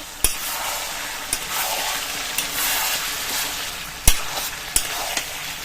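Chicken curry with potatoes frying in a pan for a Bengali red curry, a low steady sizzle broken by several sharp clacks of a spoon scraping and knocking the pan as it is stirred.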